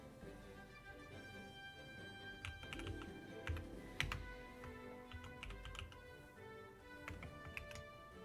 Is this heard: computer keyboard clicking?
yes